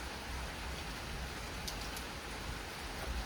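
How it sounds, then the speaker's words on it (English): Soft, steady rainfall at a lake at night after a thunderstorm, with a constant hiss and a few brief drips standing out, no voices. "It's supposed to just be light rain for the rest of the storm."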